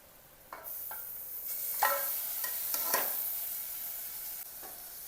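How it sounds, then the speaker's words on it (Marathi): Mutton being stirred and sautéed in a pan with black masala spices, a continuous sizzle punctuated by several scraping stirs of a spoon against the pan, with no talking. "परतून घ्यायचं व्यवस्थित। मसाले लागले पाहिजे पूर्ण मटणला।"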